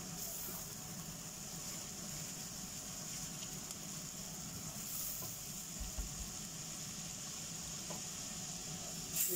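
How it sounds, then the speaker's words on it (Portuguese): Garlic sizzles softly in a pan with butter or olive oil before rice goes in, a faint, steady frying hiss with a few small clicks and bumps of the pan. "A gente deixa refogar aqui um pouquinho para fazer o arroz"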